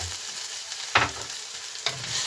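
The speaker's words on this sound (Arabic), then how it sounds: "هتقلبي شوية بس لحد ما البصلة كده تدبل معاها" Onion and green pepper fry in a pan with a continuous sizzle, broken by two quick stirring scrapes close to the mic; no one talks.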